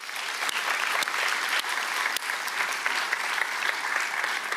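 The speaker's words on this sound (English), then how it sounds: "How about a round of applause for those faculty?" An audience at a college commencement ceremony applauds retiring faculty with steady, full clapping from a large crowd that holds its level throughout, with a few close, sharper claps standing out.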